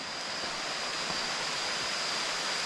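Rushing water of the Than Thip waterfall pours in a steady, loud, unbroken roar close by, with no voices over it.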